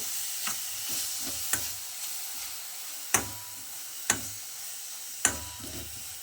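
A spoon stirs grated coconut into a melted sweet filling for patholi in a pan, with soft scraping, gentle sizzle and a few sharp clicks of metal on the pan spaced through the clip, close and fairly quiet.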